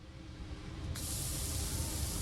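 Burgers sizzle on a grill with a steady, broadband hiss that swells louder partway through and holds, close and continuous, with no talking.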